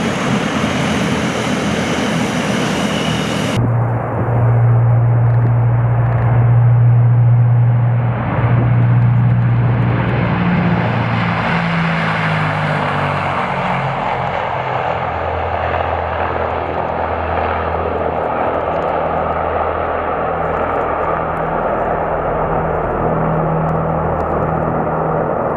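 Four-engine Tu-95 nuclear bomber aircraft in flight near a border area, making a loud, steady propeller drone with a low humming tone that holds throughout.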